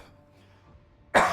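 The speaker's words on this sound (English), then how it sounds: "Got a bit of a cough." A single sharp cough bursts out near the end after a quiet stretch, close and loud.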